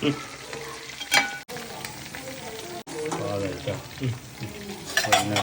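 Chicken 65 pieces coated in masala frying in oil, a large 5 kg batch, with a steady close sizzle throughout and bursts of stirring and utensil scraping against the pan.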